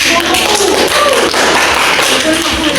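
A classroom of first-grade pupils claps together in a brief burst, with dense, close hand slaps lasting a couple of seconds and faint voices mixed in.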